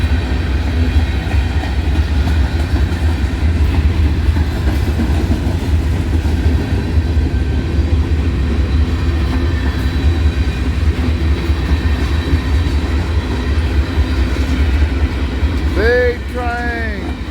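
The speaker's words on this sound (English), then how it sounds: "Big train going uphill, pushing real hard, pulling with the engines and pushing" A heavy freight train climbing uphill with locomotives pulling and pushing rumbles steadily with a deep, continuous engine drone and rolling wheel noise, loud and close throughout, with a brief squeal near the end.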